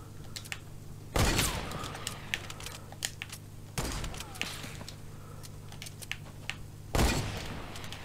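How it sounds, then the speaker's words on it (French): Sniper rifle shots ring out in the video game Fortnite, three sharp, loud cracks spaced a few seconds apart, with faint clicks and game noise filling the gaps between them. "Ça fait deux balles que je tire."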